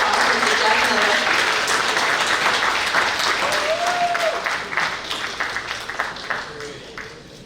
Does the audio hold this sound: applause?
yes